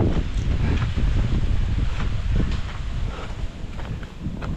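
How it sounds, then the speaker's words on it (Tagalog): Heavy wind roars across the microphone in constant, loud buffeting gusts, a dense low rumble that barely lets up. "Mahangin naman."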